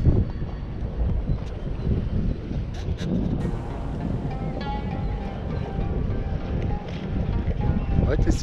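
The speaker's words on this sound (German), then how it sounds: "Heute ist sehr windig, richtig windig." Strong wind buffets the microphone in a constant low roar throughout at Bad Schachen on Lake Constance near Lindau, with a person talking underneath it.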